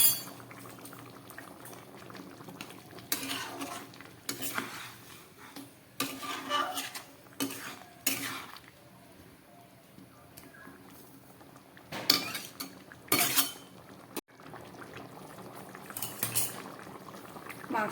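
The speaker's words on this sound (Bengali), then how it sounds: "মাংসটা পুরো ফুটে উঠেছে" Chicken curry with potatoes simmering in a pot, with soft bubbling and boiling under occasional clinks of a spoon and pot, fairly quiet and close, with brief low speech.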